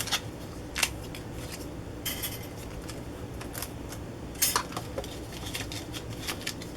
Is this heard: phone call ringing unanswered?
no